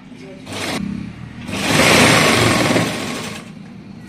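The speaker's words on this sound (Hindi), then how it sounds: "इसको इसके नीचे रखते हुए पूरे पर हमने सिलाई लगा लेनी है" Sewing machine running straight stitches to attach samosa lace beneath the folded edge of an Anarkali kurti, heard in two close bursts, a short one and then a longer, louder stretch.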